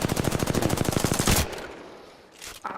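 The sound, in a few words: Triple Take gunfire in the video game Apex Legends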